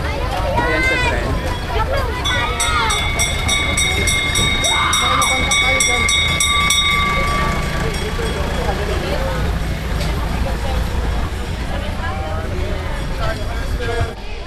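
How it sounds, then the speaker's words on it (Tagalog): A train ride in Tagaytay City, with a steady loud rumble of rolling rail carriage throughout, high squealing tones drifting over it, and voices and crowd chatter mixed in underneath. "Ayan sa tren."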